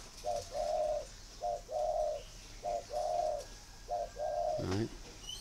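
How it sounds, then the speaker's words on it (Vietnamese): Male spotted dove cooing in a steady repeated pattern: five short two-part coos spaced about a second apart, clear and fairly close, ending with a brief rustle or wing flutter. "đấy là những cái giọng, đấy là giọng chim bố."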